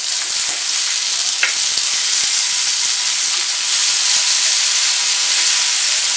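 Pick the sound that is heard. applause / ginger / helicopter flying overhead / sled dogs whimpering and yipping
ginger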